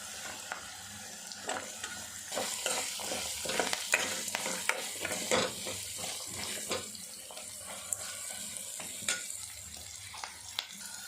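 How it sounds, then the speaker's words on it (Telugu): Beetroot and carrot stir-fry in a pan with curry leaves and ginger-garlic paste, a soft continuous sizzle broken by frequent close spoon scrapes and clinks against the pan. "మంచిగా కలుసుకోవాలి ఫస్ట్ బీట్రూట్ క్యారెట్ వేసేసుకోవాలి"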